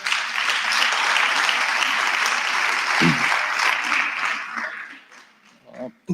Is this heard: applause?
yes